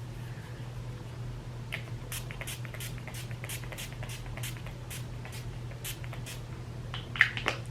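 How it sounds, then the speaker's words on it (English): NYX Matte Finish Setting Spray is pumped onto a face in a series of about nine short, quiet mist bursts at a steady rhythm over a low background hum. "I will spray my face with my NYX Matte Finish Setting Spray"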